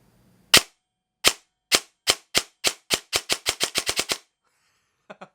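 A G&G ARP9 airsoft gun with a binary trigger fires a series of sharp, close cracks, at first spaced apart, then speeding into a rapid burst of about a dozen shots, followed by two faint clicks.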